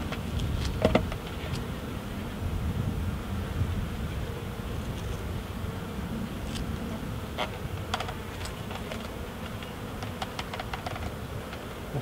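Honey bees drone steadily while hives are being united, a dense close-up buzz lasting throughout with scattered sharp clicks and knocks from handling the hive equipment.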